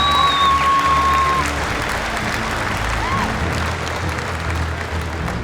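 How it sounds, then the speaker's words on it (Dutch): Sustained applause from an audience at a horse society award ceremony, presenting the Royal Friesian Pin, a steady, dense wash of clapping filling the room with a short whistle-like tone near the start. "Applaus!"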